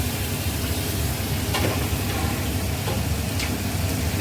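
Fish fries in a pan with spices and ginger paste, giving a loud, dense, unbroken sizzle close by, with a couple of faint clicks over the steady crackle.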